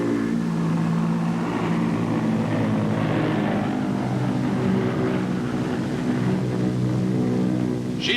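A large aircraft with added jet engine thrust climbs away, producing a steady, moderately loud engine drone that holds its pitch throughout with no voices.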